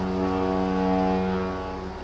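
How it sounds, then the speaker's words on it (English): A ship's engines rumble up from a start, a steady low droning hum with harmonic tones that swells slightly and then eases, heard alone. "The engines start, we sail on."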